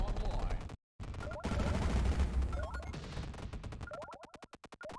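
Super weapon firing in a video game, with dense, rapid bursts of automatic gunfire and crashing impacts, then a fast rhythmic train of sharp shots near the end, all loud and close.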